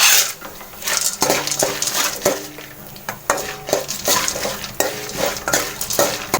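Dried red chillies and chana dal frying in oil in a pan for puliyodharai, a steady close sizzle broken by repeated scraping and clinking of a spoon stirring against the metal, with no talking.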